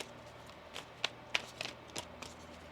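Cards being shuffled by hand: a few crisp riffles and soft slaps in quick succession, close up, with no talking.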